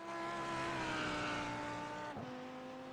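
Audi GT3 race car in a racing video game at Sebring, its engine a steady loud drone with harmonics that drop sharply near the end as it shifts or lifts off, continuous throughout.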